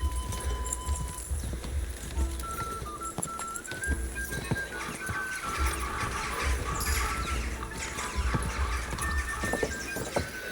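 A horse gallops in Kingdom Come: Deliverance, hooves pounding in a fast continuous rhythm over dense game ambience with faint whistling tones, loud and close throughout.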